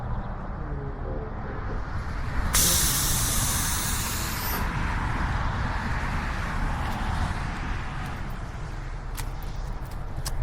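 Air line valve actuating the tailgate release on an aluminum trailer behind a rotator tow truck, opening with a sudden loud hiss of escaping air that lasts about two seconds, then fades into steady engine rumble.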